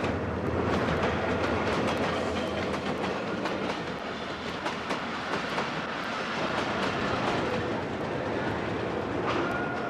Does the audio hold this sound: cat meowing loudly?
no